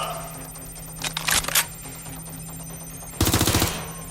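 Video game gunfire in Watch Dogs Legion: a couple of sharp shots, then a rapid automatic burst of about eight rounds, mid-loud over a constant electronic hum.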